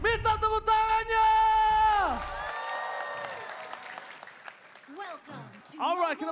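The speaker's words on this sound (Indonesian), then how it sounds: "So, EPL Arena, minta tepuk tangannya!" A crowd at the EPL Arena claps and cheers during a Mobile Legends esports match between ONIC and Alter Ego, a broad wash of applause under loud, animated caster talk.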